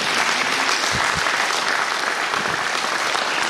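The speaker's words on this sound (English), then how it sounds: "Let's give Jesus a clap offering for that." A church congregation at a Sunday service gives a clap offering, a full, steady wash of many hands clapping at once, continuous and fairly loud with no voices over it.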